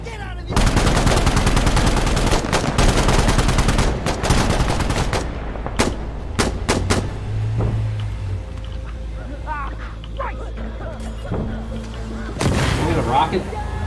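Gunfire in Insurgency Sandstorm co-op play: loud, dense bursts of automatic fire and sharp booms that fill the opening seconds, then scattered single shots and distant rattling, with a fresh loud volley near the end and voices talking throughout.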